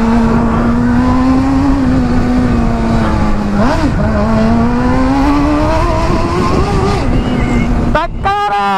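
A Honda Hornet motorcycle engine runs loud and close with a steady droning tone, the pitch rising briefly in a short rev before settling, then cutting off abruptly near the end.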